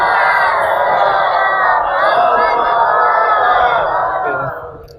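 Many voices in an imambargah hall in Lucknow shout a devotional chant together, a dense, loud and continuous crowd roar lasting several seconds before tapering off at the close.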